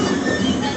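A train car rolling along rails toward a railroad crossing, a steady close rumble with faint wheel squeal and no talking.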